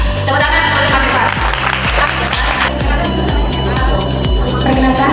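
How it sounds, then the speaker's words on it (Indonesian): An audience at a school literacy event at MA MTs Darul Ulum applauds Mas Irfan, loud clapping over a steady rhythmic thumping beat, with some background voices. "Tepuk tangan untuk Mas Irfan"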